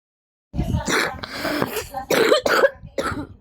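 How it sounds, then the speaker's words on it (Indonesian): Several harsh coughs and throat-clearing bursts come close and loud, one after another with short gaps between them, and no talking. "Aku batuk."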